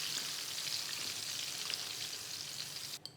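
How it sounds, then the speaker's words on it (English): Pork sizzles in hot oil during a double deep fry, a bright, crackling bubbling hiss that holds steady and fairly close for about three seconds before a brief clatter at the end. "So the pork on the first fry has had about 2 to 3 minutes of deep frying."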